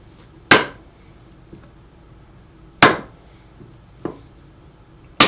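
A Camillus Carnivore Maxx machete strikes a log with sharp, close whacks. Three hard chops are spaced a couple of seconds apart, with lighter taps between them, against a quiet background.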